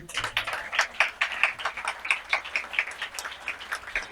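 Applause at a bookshop event, with an audience clapping in a steady patter of overlapping hand claps at moderate volume, with no voices.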